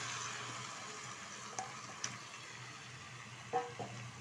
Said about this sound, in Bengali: এখন দিয়ে দেবো এর মধ্যে চিকেন।